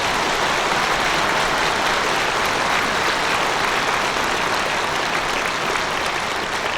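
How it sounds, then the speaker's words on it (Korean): Loud, sustained applause fills a church as the congregation claps for a pastor at a pastoral installation thanksgiving service, an even dense roar with no one speaking. "우리 노태진 목사님 크게 박수해 주셔야 되죠"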